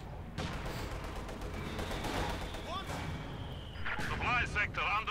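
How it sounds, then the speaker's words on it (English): Mortar fire trading back and forth in the strategy game Company of Heroes 2, a dense rumble of booms and impacts running throughout, with a caster talking over the battle noise. "Rather vicious mortar exchange here, but with no real winners for the time being anyways"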